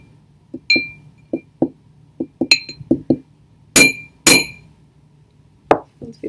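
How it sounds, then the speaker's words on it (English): Glass clinks and taps repeatedly at an uneven pace, close by, with a few louder, ringing strikes midway. "Sorry about all the clinking noises."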